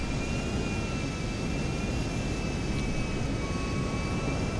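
Large airplane in GTA roleplay coming in to land: a loud, steady jet engine roar with a thin high whine that holds for several seconds, no voices.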